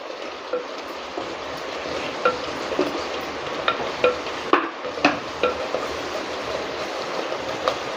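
A pot of green gram rice with turmeric is stirred, a spoon scraping and knocking against the metal in a loose repeating rhythm of close, fairly loud clacks over a low background hiss, with no one speaking.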